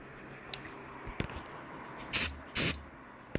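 Two short, sharp bursts of starting fluid from an aerosol can, sprayed near an IH 304 engine in a Scout, close and loud, with faint clicks and handling noises around them.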